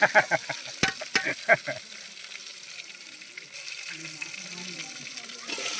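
Tomatoes and prawns sizzle in a frying pan with curry leaves, a steady close hiss running throughout after a few sharp clatters and bursts of voices at the start.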